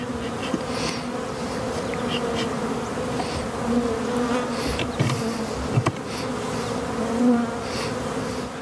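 Honey bees buzz steadily around a yard of beehive colonies in February, a dense continuous drone from many insects close by with no voices.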